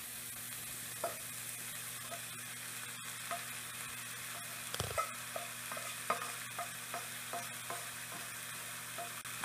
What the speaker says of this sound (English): So you just gently stir and incorporate all ingredients.